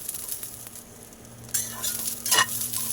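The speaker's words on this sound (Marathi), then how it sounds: "मिरच्या आता भाजायला लागलेल्या आहेत" Green chillies and garlic fry in a little oil, giving a continuous close hiss that swells as a spoon stirs and scrapes through the pan.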